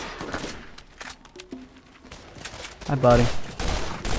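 Rapid bursts of gunfire from the player's weapon in Borderlands 1, punchy shots clustered around a man's brief casual speech, with a louder volley near the end.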